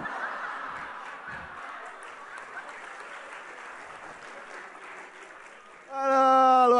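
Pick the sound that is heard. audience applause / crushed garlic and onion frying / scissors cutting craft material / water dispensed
audience applause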